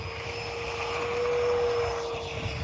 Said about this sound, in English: His maiden flight of the Flex F-100.